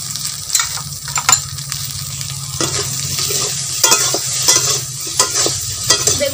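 Brinjal seasoned with salt and turmeric fries in a pan with a steady, close sizzle, broken by repeated scraping and clinking as it is stirred.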